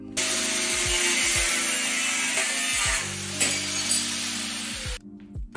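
A power tool cuts off a metal rod that hit a brake caliper after new bearings were fitted, giving a loud, steady, close grinding whine with a few dips in pitch, then stopping abruptly.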